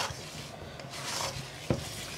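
A spoon scrapes and swirls as herbal powders are stirred into thick honey, a steady close-up mixing sound with one sharper knock near the end.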